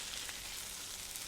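Mutton cutlets frying in oil on a tawa over a rocket stove on a terrace, a continuous bright hissing sizzle heard close and alone.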